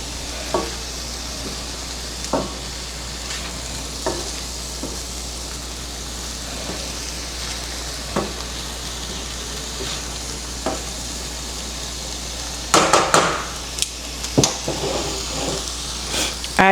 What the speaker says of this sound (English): we're gonna let that simmer and cook